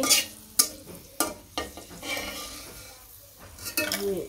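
Dried red chilies fry in a pan with a soft sizzle, broken by sharp clinks and scrapes as a spoon stirs against the metal several times.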